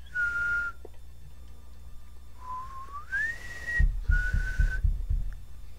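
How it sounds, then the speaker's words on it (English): A person whistles three clear tones: a steady note, then a rising slide to a higher pitch, then another steady note, close and fairly loud with low thumps beneath the last one. "That's my whistle to you"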